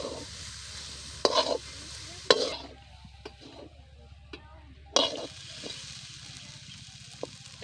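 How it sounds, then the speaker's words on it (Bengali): Boiled snails being stir-fried with spices in a pan, giving a low steady sizzle with several sharp scraping stirs of a spatula close by, separated by quieter stretches with no talking. "দিয়ে ভালো সুন্দর করে কষিয়ে নেব।"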